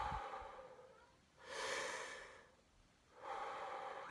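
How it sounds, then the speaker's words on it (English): Slow, calm breaths taken during a calming exercise for anger, two long, soft airy breaths close to the mic, each about a second and a half, with a quiet pause between them and no talk. "Slow breathing is the important part."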